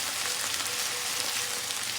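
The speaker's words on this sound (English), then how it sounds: "Brown potatoes. They're going to be fried." Potatoes fry in hot oil in a pan, giving a loud, steady, unbroken sizzle with no voices over it.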